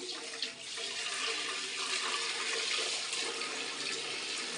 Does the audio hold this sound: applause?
no